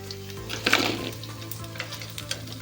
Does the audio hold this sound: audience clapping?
no